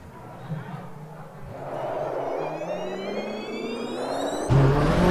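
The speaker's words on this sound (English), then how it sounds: "There you go, engine kicks in." A Lamborghini engine in the racing game Automobilista 2 kicks in after electric running, a rising whine building steadily and then a sudden louder roar near the end, with a person talking over it.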